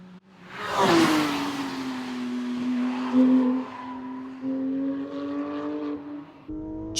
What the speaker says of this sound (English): In its home environment, the GT3 RS wasted little time in underlining its Rennsport credentials.